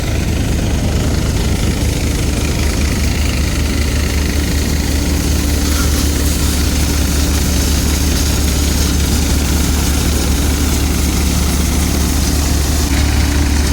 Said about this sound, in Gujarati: ટ્રેક્ટરનો રેસ તમે જોઈ શકો છો કે બિલકુલ દાબ વગર ટ્રેક્ટર હાલે છે।